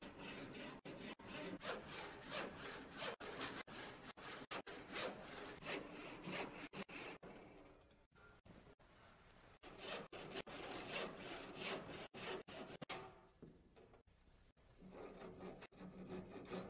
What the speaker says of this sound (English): Make the cut with a sharp 12 crosscut saw.